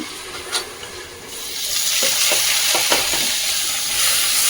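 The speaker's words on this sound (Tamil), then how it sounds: "தக்காளி போட்டு நல்லா வதக்கி விட்டுடலாம்." Tomatoes sauté with softened onions in a pan, a steady sizzle building after a quieter start, with a few scraping stirs of the spatula, close and fairly loud.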